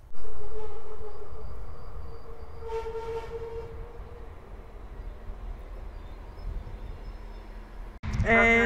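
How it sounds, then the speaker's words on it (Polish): A regional passenger train rolls into a station with a steady low rumble and mechanical hum, a brief higher tonal squeal midway, then an abrupt louder burst of clatter near the end. "pociąg Regio właśnie wjeżdża, więc go nagram"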